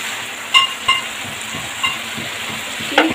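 Chilli-ginger paste masala sautéing in a pan, loud close sizzling with several sharp scraping stirs of a utensil against the pan, and no talk.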